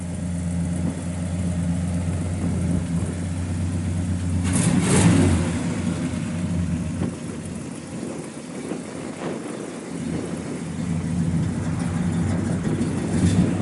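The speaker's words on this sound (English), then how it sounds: "Got a nice dual exhaust all the way out the back." A 1967 Pontiac GTO rumbles at idle through its dual exhaust, with a rev around the middle that swells and falls back to a steady, throaty idle, heard close by with no talking.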